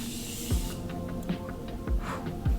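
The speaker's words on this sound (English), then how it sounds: "All we need is some setting spray" Makeup setting spray misted from a pump bottle in a short hissing burst at the start, close and fairly soft, followed by a few faint low thumps in an otherwise quiet room.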